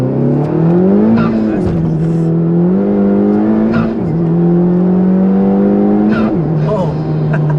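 A Honda Civic Type-R FK2 engine revs hard from inside the cabin, loud and close, its pitch climbing through several gear pulls with brief dips at each shift; someone talks briefly over it.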